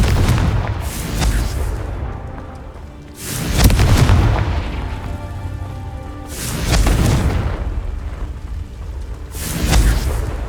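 Confringo blasting spells in Hogwarts Legacy on PS5, three loud booming explosions spaced a few seconds apart, each with a sharp onset and rumbling decay, alone without talk.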